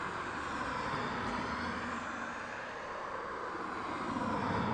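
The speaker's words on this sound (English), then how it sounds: "Ryanair 737 taxiing out as well." A Ryanair Boeing 737 taxis out at East Midlands Airport, its jet engines making a steady, broad roar that holds constant throughout at a moderate distance.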